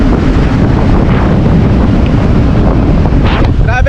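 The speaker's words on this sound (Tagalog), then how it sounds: "Grabe yung talsik sa dagat. Halos ka makaligo na yung tubig dagat. Sumasama sa hangin." Strong coastal wind blows sea spray, a loud, constant buffeting roar with rushing surf beneath it throughout.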